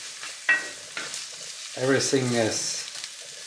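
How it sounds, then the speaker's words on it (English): Vegetables and onions fry with a sizzling hiss in a pan while being stirred, with scraping bursts of stirring throughout and a person talking over the cooking partway through. "When it starts to sizzle, that's the perfect time to start stirring it up a bit"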